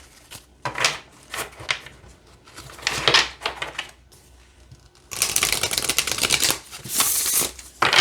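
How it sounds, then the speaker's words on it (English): Oracle cards riffle and snap in repeated quick bursts, followed by a longer, louder stretch of continuous shuffling close by. "so let's shuffle"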